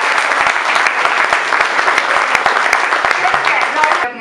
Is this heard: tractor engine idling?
no